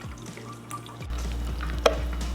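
Pineapple juice poured into a chili-paste marinade for al pastor-style smoked spare ribs, a steady close liquid pour that grows fuller partway through, with a small knock near the end.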